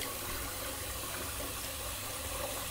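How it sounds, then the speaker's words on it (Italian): Water runs steadily from a tap while a shave with a Wilkinson Classic vintage safety razor is prepared, a constant soft gushing flow heard alone. "ora metto un po' di acqua"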